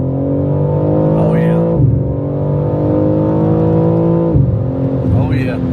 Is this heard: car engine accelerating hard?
yes